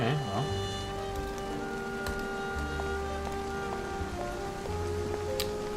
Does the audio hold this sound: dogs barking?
no